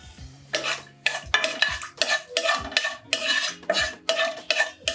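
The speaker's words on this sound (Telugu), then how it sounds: "యాలక్కాయలు, దాల్చిన చెక్క ఇలా వేసుకుని వేయించుకోవాలి." Whole cardamom pods and cinnamon stick fried in a little oil in a pan for a chicken masala curry, heard as a run of sharp, close scraping and stirring bursts with a faint sizzle underneath. No one talks.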